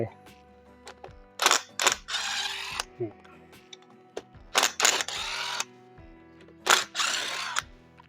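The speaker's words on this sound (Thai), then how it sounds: "แต่ว่าผมจะใช้ ไขควงกระแทกนะครับ เพื่อความสะดวกในการ ขันออกนะครับ" An impact screwdriver removes size 10 nuts from an old, rusted water pump. Short bursts of tool noise come in several separate bouts with pauses between them, and clicks and handling sounds fill the gaps.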